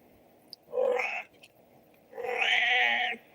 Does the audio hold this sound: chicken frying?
no